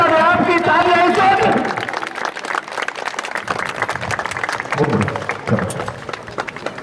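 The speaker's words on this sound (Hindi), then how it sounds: "ताली बजा के स्वागत करें इसका।" Crowd at an outdoor yoga event at an ashram clapping to welcome a performer, with a voice over a loudspeaker at the start giving way to a sustained patter of applause with scattered louder claps.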